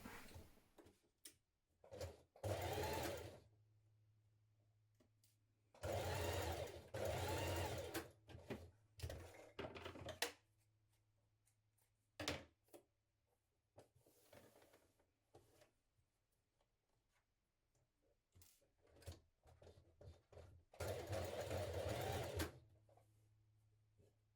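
Domestic sewing machine running in three bursts of steady stitching around a trouser pocket edge, with quiet pauses and small handling clicks between runs.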